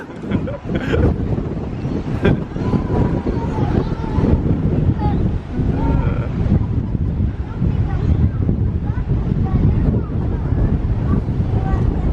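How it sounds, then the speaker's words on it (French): Strong wind in Sydney buffets the microphone in a constant rumbling roar, with a voice faintly audible beneath the gusts. "Il y a tellement de vent, ça me coupe la parole"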